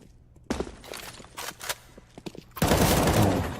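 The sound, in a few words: pistol gunfire in the video game Counter-Strike: Global Offensive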